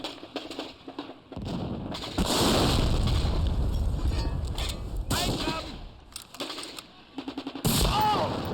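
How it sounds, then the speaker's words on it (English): Gunfire in Medal of Honor Frontline Remastered, with loud sustained bursts of automatic fire and rifle shots over a battle din, broken by brief lulls, with a voice talking faintly at moments. "Where am I still getting shot from?"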